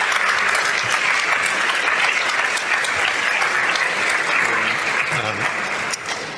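A conference audience at the TransVision Madrid 2025 longevity summit bursts into sustained, dense applause welcoming a speaker, loud and steady for several seconds before easing slightly at the end.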